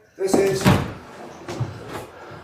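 Old door to the outside of an oast house scrapes and thumps open close by, with a creak and a couple of knocks, as voices are heard speaking.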